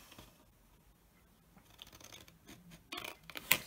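Scissors cut out paper pieces for a test tube shadow box craft: near silence at first, then a few soft scrapes and rustles, ending in a brief run of crisp, close snips.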